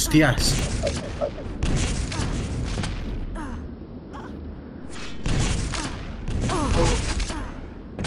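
Grenade explosions in the Quake CPM arena shooter during a CPM22 duel: several loud booms arrive in bursts amid a dense wash of weapon fire and game noise.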